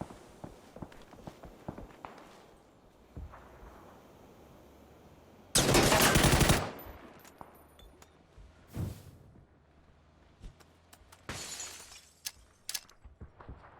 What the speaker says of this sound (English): Another team shooting at them now.